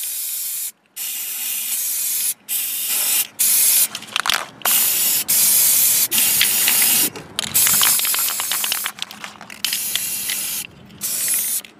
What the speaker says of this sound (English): Let's get spraying.